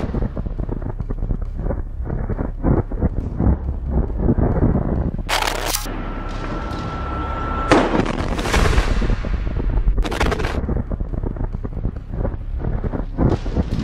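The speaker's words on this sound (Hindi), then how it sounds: "अल कासिम के लड़ाके रॉकेट लॉन्चर से हमला कर देते हैं, जिसमें जोरदार धमाका होता है" An Al-Qassam Brigades rocket launcher strike on an Israeli Merkava tank in combat, heard as a series of sharp blasts and cracks with a large explosion burst midway, ringing and rumbling out under gusty wind noise, with no speech.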